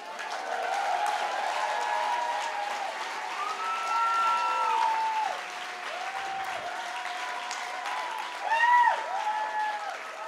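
Audience applause in a comedy club during a stand-up set, steady broadband clapping throughout with a brief swell near the end, mixed with crowd noise and faint voices.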